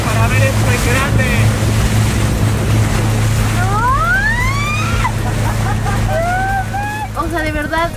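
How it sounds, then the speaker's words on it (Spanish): A motorboat speeds across the sea at night, its engine droning steadily under rushing water and wind, while excited voices chatter and exclaim over it. "Nuestro conductor aumentó la velocidad de la lancha para ver esto en grande."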